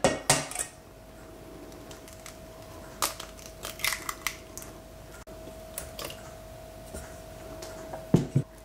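Cupcake batter of flour, baking powder, oil and eggs being mixed in a bowl with a utensil, giving sparse, uneven scraping and clinking strokes close by over a faint steady hum, with no talk.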